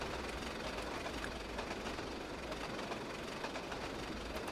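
Steady, loud rumble of the Flying Scotsman, a 1920s four-cylinder steam locomotive, running in the Trainz: A New Era train simulator, a continuous broadband roar with faint rhythmic pulses and no voices.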